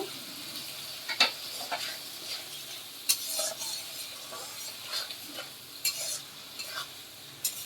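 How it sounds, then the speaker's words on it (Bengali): Mung dal fries with spices in a hot pan while a utensil stirs and scrapes it in short, repeated strokes, close and fairly quiet. "এবার মশলার সাথে মুগ ডালটা একটু ভাজা ভাজা করব"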